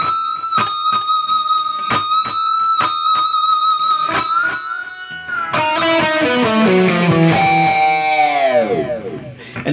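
Electric guitar playing the opening of a solo slowly: a run of repeated picked notes on a high line, then a fuller descending phrase with bends that rings out loud and clear, no voices.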